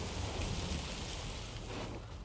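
A rain weather effect in the video game Gwent plays as a steady, faint hiss of falling rain, continuous and even with no voices.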